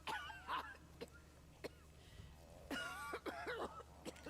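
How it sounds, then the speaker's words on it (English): A character in the video game Remnant gives several chesty coughs and throat clears, spaced irregularly across the clip over a low steady background hum. "that's a pretty chesty cough right there"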